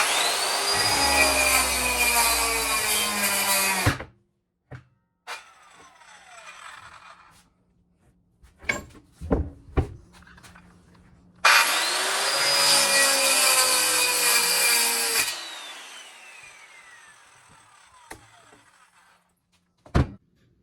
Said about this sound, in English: We cut it out with the skill saw.